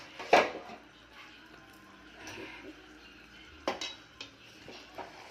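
Chilli chicken being stirred in a pan during cooking gives a few sparse, faint scrapes and clinks of a utensil against the pan, with one sharper knock near the start and quiet gaps between.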